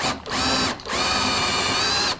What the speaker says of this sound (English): So I'm just going to increase the size of all of my holes